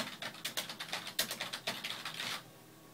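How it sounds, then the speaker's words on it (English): Keys are typed on a serial terminal keyboard connected to an Altair 8800 computer, a quiet, rapid run of light clicking keystrokes that stops abruptly near the end. "I'll start typing again."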